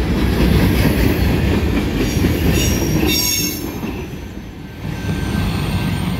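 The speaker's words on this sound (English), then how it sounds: "Train rolling off around the corner" A freight train rolls along the tracks close by at Morgan Road, wheels clattering and faintly squealing, then the rumble dips and swells again as it moves away around a corner.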